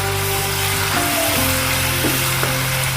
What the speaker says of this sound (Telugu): ఇప్పుడు అల్లం వెల్లుల్లి పేస్ట్ వేసుకొని పచ్చి వాసన పోయేంత వరకు వేయించుకున్నామండి.